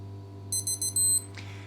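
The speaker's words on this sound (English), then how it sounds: "Here we are, 5 seconds to go. I'll let you hear the beeps again." A Casio RFT-100 digital watch sounds its countdown: four short high-pitched beeps in quick succession, then a slightly longer final beep, crisp and close over a faint steady hum.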